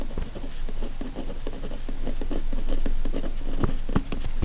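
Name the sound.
writing notes by hand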